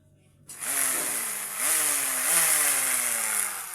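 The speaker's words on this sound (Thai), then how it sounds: "อันนี้เป็นเครื่องตัดหญ้าไฟฟ้านะทุกคน" A modified electric lawn mower or grass trimmer starts up after a brief quiet and spins up to a loud, high whine. Its pitch rises in a few surges, then holds steady close by.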